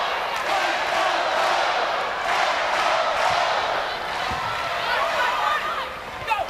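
Volleyball arena crowd roaring steadily at a women's college match, Hawaii against San Diego, during a serve, a dense sustained cheer with chatter mixed in.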